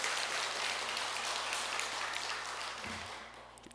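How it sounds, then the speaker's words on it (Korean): An audience claps together at a Buddhist monk's talk, a steady spatter of applause that carries on for a few seconds and then thins out. "그러면은 박수를 한번 보내주셔야지."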